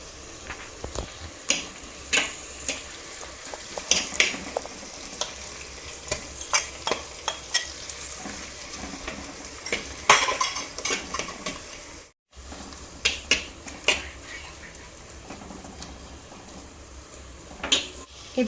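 Masala for a fish curry frying over low heat in a clay pot, with a steady sizzle and repeated scraping stirs of a utensil against the pot, close and fairly loud, with no talking.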